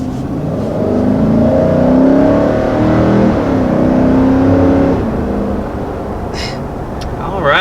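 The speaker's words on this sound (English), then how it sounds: "As you can probably hear, we still have a really nice old school V8 on board" A 2020 Nissan Titan pickup with an old-school V8 pulling away, a deep rising engine drone heard from inside the cab as it accelerates, easing off after a few seconds, with faint clicks at the end.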